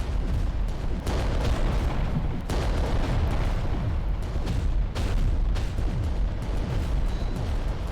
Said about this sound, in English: Oh, he's firing at him as well.